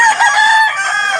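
Roosters crow close by at a chicken farm in Tabunok, Cebu, a bright sustained cock-a-doodle-doo carrying over other fowl clucking, loud and steady through the short stretch.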